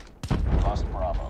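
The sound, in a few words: HVK gun firing in video game Call of Duty Mobile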